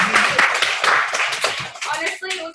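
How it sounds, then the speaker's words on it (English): Audience clapping at a weekly academy gathering, a loose burst of claps mixed with talk and cheering that tapers toward the end. "let's clap it up for Bex one more time."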